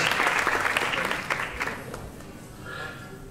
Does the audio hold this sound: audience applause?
yes